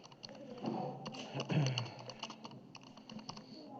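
Fingers tap steadily on a computer keyboard in a classroom-style setting, a close run of quick clicks with a soft murmur of background sound and no clear speech.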